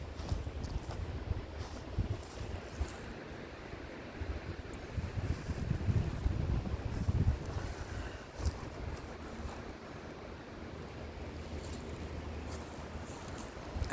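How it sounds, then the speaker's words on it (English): Strong wind gusting outdoors in drought-dry South Carolina, a continuous rumbling buffet across the microphone with swelling and easing gusts throughout, no voices. "that wind's blowed like crazy down here."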